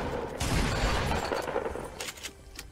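Fortnite battle royale gunfire crackles in a dense burst up close, dense rattling shots over a rough, noisy backdrop, tapering into a few scattered sharper cracks.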